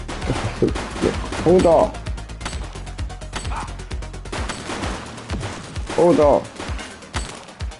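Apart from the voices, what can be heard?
gunfire in video game The Precinct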